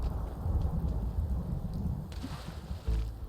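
A heavy thunderstorm from the True Storms mod in Fallout 4, with steady driving rain and low rolling rumbles of thunder that swell and fade, loud and close throughout.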